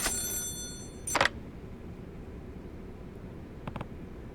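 A telephone rings in a video game: a short electronic trill at the start, then two brief ring bursts spaced apart, fairly quiet over a low hum.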